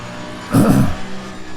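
A race car in Assetto Corsa Competizione roars past in one brief, loud engine surge that swells and fades over a steady background drone.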